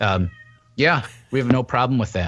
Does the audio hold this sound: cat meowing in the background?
yes